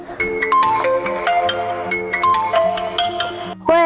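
A mobile phone ringtone plays for an incoming call: a bright, repeating electronic melody of stepped tones over a steady bass pattern, loud and close, cut off by a brief burst of noise at the end.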